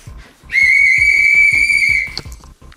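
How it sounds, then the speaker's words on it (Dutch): A novelty whistle is blown in one long, loud, shrill tone of about a second and a half, with a rhythmic thumping beat going on underneath. "Een gek fluitje."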